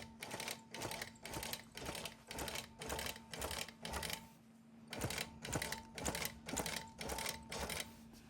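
A longarm quilting machine sews a basting stitch near the edge of a quilt top and batting, running in steady rhythmic bursts of rapid needle chatter with brief pauses between runs, fairly faint and close.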